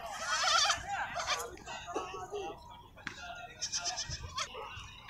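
Goats bleat in quavering cries at a bakra mandi goat market near the Hyderabad bypass, with several calls near and farther off, mixed with people talking and a burst of laughter.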